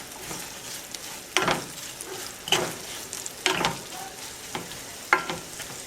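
Onions with salt and sugar frying in a pan over medium heat, stirred with several distinct scraping strokes spaced about a second apart over a steady soft sizzle, close and with no talking.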